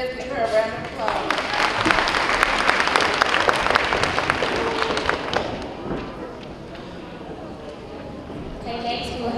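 An audience at a school awards ceremony breaks into a dense burst of applause that swells for several seconds, then thins and fades, with voices around it.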